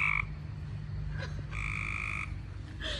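Backyard frogs croak loudly in repeated trilling bursts, several calls overlapping close by against a low steady background hum, with no voices.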